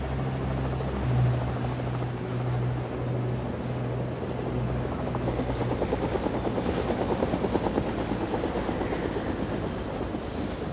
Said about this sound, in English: Juju, prepare the helicopter. We're leaving immediately.